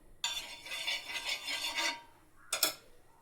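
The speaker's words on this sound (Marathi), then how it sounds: "आपला तवा व्यवस्थित तापला आहे त्याच्यात थोडंसं अगदी तूप लावून घेऊ" Ghee is spread over a hot tawa griddle with a scraping, sizzling rub lasting about two seconds, then a short second scrape, close and quiet with no talk.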